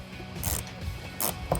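A ratchet wrench loosens a tail light bolt on a Jeep Wrangler JL, giving short bursts of clicking pawl ticks, close and clear.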